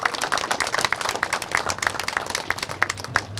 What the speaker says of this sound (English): So a round of applause for Cricket Canada, our friends at Cricket Canada.